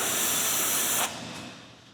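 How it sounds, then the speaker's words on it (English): Spray bottle misting cleaner onto a degreased manual transmission case from a Camaro SS, one loud continuous hiss for about a second that cuts off into a fading residual hiss. "now we're just gonna spray this on. Let's get a mist going"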